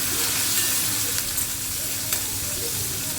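Four crushed large onions and curry leaves fry in a pan for mango rasam, a steady close sizzle with occasional stirring scrapes and no talking.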